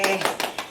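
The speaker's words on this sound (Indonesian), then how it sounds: "Tepuk tangan dulu." Several rhythmic rounds of hand clapping from a children's Sunday school group, close and fairly loud, in short bursts under a spoken voice.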